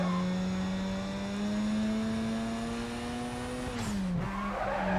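A drift car in the racing game Need for Speed: Carbon howls through a long, sustained tire squeal over its engine note, pitch sliding down sharply near the end before the skid resumes.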